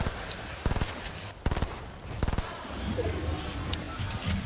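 Gunfire in Fortnite during a PAX Summer Skirmish match: several rapid bursts of automatic shots in short clusters, moderately distant and quiet, with game ambience and commentary around them.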